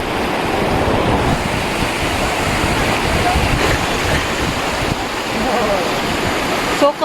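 Mountain stream in Naran, Pakistan, rushing as a steady, close broadband roar of flowing water with a little wind noise, continuous throughout.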